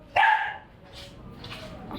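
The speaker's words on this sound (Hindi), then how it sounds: "इस तरफ अंदर एक डॉगी भौंक रहा है" A Pomeranian in a pet shop gives one sharp, high, close bark, followed by fainter yips and shop noise in the background.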